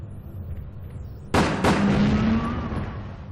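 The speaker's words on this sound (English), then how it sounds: "That was a great explosion." Two sharp booming blasts go off about a third of a second apart in the video game Resident Evil: Dead Aim, loud and close, followed by a rumbling, fading tail over low game ambience.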